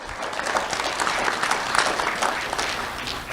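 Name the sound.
audience applause at an awards ceremony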